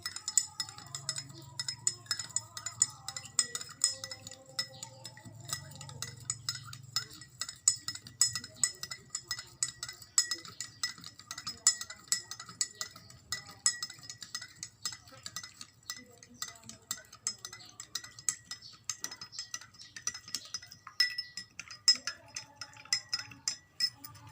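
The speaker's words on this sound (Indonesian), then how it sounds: "Kita masukkan garam ke dalam air. Lalu kita aduk." Salt being stirred into water in a glass during a chemistry practical, a long run of quick light clinks and ticks of a spoon against the glass, faint and steady, with a low voice briefly audible.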